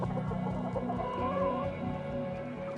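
Domestic chickens clucking continuously in a farmyard flock, with overlapping calls from several birds close by, steady and fairly loud throughout.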